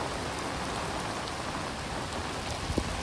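Heavy rain pours down steadily during a flood, a dense unbroken hiss of drops close by with no voices.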